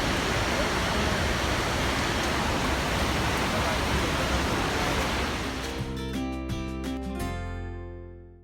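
Waterfall at Lake Sebu roaring as a dense, steady wash of water, loud and continuous, easing slightly over the last couple of seconds.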